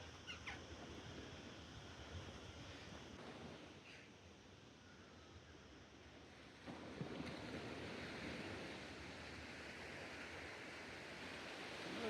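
Sea waves wash steadily onto the shore at a Moroccan coastal spot near Ksar Sghir, a continuous broad surf roar with wind, swelling slightly louder toward the end.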